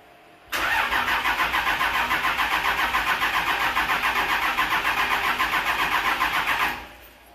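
A 2001 Cummins 24-valve diesel with a swapped VP44 injection pump and the air intake removed cranks with a loud, close, evenly pulsing starter rhythm for about six seconds before cutting off.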